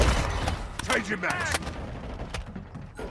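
Gunfire in a shooter video game: sharp, scattered shots crack out in quick bursts at close range, with voices talking over the action.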